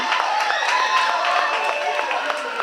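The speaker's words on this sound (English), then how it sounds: "Give them a round of applause." Sustained applause and clapping from an audience at a school moving-on ceremony, steady and dense throughout, honoring the volleyball team that reached the finals, with some voices mixed into the crowd noise.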